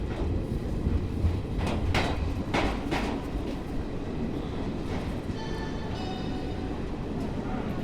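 A train rumbles steadily with rhythmic clanks and clattering bursts, a low continuous roar as it rolls slowly along the tracks into Agra Cantt railway station.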